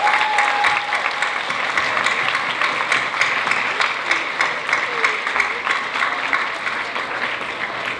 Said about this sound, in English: everyone that came up and performed today needs another big round of applause